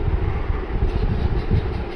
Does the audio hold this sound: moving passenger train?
yes